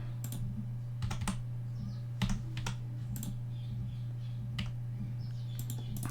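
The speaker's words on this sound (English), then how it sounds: "I'm just going to put my password in." A password is typed on a computer keyboard in short bursts of quiet, close key clicks separated by pauses, set against a steady low electrical hum, with no talking.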